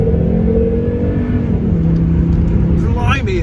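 Car in sport mode accelerating hard, engine note rising steadily through the gears, loud and close, with an upshift near the end.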